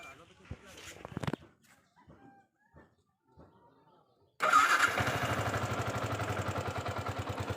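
Motorcycle engine starting after quiet talk, catching suddenly and settling into a loud, steady close idle, with a rooster crowing faintly beforehand.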